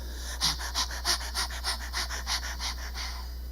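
A voice imitates a baby's sighing breath: a run of about ten soft, rhythmic breathy pants, close and fairly quiet, over a steady low hum.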